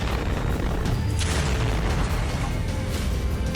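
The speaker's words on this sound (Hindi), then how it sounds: "धमाके में टैंक का पुर्जा खुल गया।" A loud, sustained rumbling blast roars continuously, dense and broadband, a landmine exploding under a moving tank, heard close with no talking.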